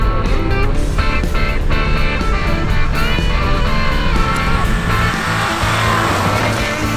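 A car with a 2.5 liter boxer engine driving hard and sliding sideways, its engine loud and close with a strained, rising drone and hints of tire scrub, continuous throughout.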